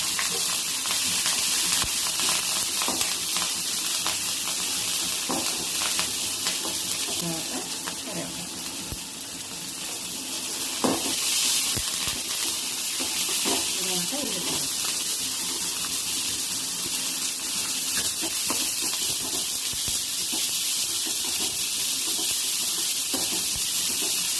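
Dried and green chillies, curry leaves and onion frying in a tempering pan of oil, giving a steady broad sizzle and hiss that runs the whole time with faint stirring clinks and a voice talking underneath.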